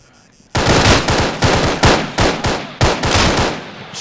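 Loud, close automatic gunfire from ARMA 3 with the Breaking Point mod, heard as repeated sharp bursts in an uneven rhythm over about three and a half seconds.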